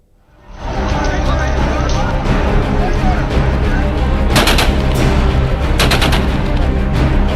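Gunfire during clashes with protesters in Mirpur and Muzaffarabad, Pakistan-administered Kashmir, as shots are fired into the air; sharp bursts sound over a loud, continuous crowd din.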